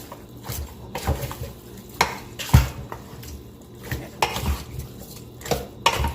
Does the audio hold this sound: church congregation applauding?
no